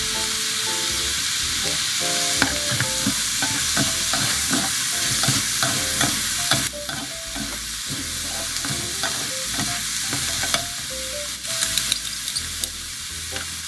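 Seafood udon stir-fry with soy sauce is stirred in a hot pan, giving a constant loud sizzle with repeated scraping and clacking of the utensil against the pan, close up and without talk.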